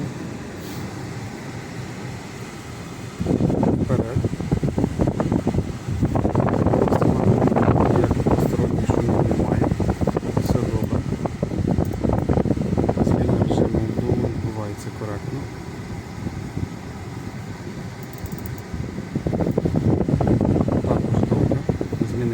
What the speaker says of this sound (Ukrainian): кондиціонер перевіряємо одразу. Максимальний режим обдуву.